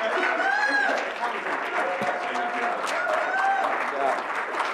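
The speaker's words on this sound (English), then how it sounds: "Let's give Larry a round of applause" Audience applause at a Rochester Board of Education business meeting, steady dense clapping throughout with some crowd noise and a voice over it.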